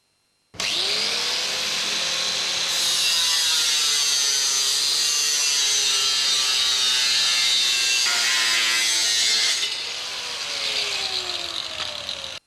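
A saw cuts length from the bottom of a roller door guide during a Wideline roller door installation, a loud continuous rasping and whining cut running steadily for about ten seconds before easing off.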